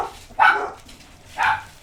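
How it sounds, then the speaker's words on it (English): Two separate barks from a dog somewhere in a house, each one a single loud woof with a short pause between them, and no other sound around them. "let me calm down these dogs"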